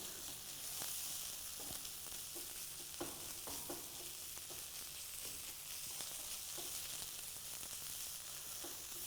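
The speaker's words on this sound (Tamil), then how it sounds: "இந்த தேங்காய் பொன்னிறமாக ஆகணும், அந்த அளவுக்கு வதக்கணும்." Grated coconut and dried mushroom sauté in oil in a pan for a dry mushroom fry, giving a steady, quiet sizzle with occasional soft stirring scrapes, with no voices.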